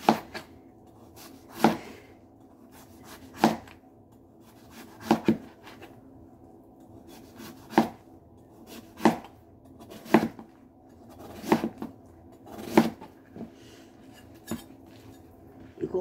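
A knife chops through a large, aged pumpkin in a series of sharp, separate thuds against a cutting board, spaced irregularly about every second or two, close and clear with no talking.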